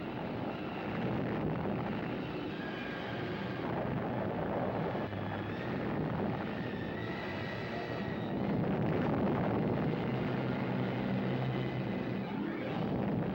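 Atomic bomb shock wave rolling across a desert test site toward soldiers in trenches, a dense, sustained low rumble and roar that stays loud and steady throughout with no voices.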